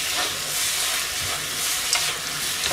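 Food stir-fries in a pan over high heat, giving a steady, close sizzling hiss that runs unbroken throughout, with no one speaking.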